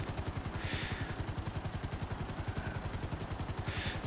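Helicopter flying in GTA V; loud, close, rapid rhythmic rotor chop pulsing steadily throughout, with no voices.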